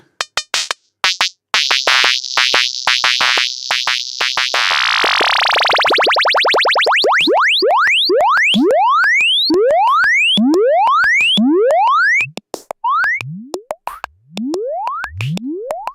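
Synthesized tones from the Telephone Line iOS synth app: a harsh buzzing sweep gives way to a rapid series of rising electronic chirps and boings, loud and repeating in quick bursts, with no speech.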